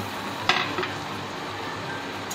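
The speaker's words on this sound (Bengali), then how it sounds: "এবার আমি এই 3 কাপ চালকে পুরোটাই দিয়ে দিলাম।" Three cups of rice tip into hot oil and spices in a pot for prawn pulao, landing with a soft clatter before a quiet, steady sizzle and light stirring continue.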